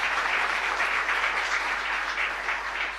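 Steady applause fills a chapel, a continuous wash of clapping from a gathered congregation heard from some distance, even and unbroken for the whole stretch.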